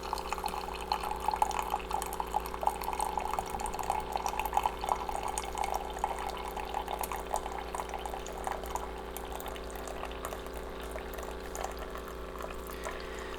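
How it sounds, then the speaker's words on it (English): A Keurig coffee machine pours hot chocolate from a pod into a cup, a steady close trickle of liquid running alone with faint splashy detail. "Right now it's just taking all that flavoring and powder outside of the pod, and as you can see, it's pouring my hot chocolate."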